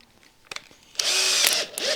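A power drill set to reverse in figured wood gives a few light clicks and a short blip, then revs into a loud, bright whir for about a second, dips briefly and spins up again.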